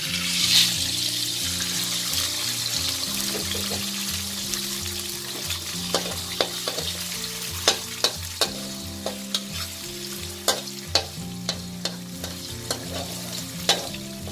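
Eggs dropped into a hot wok of oil, sizzling steadily and close, with repeated sharp clicks and taps of a utensil against the wok and faint water-like bubbling beneath, no voices.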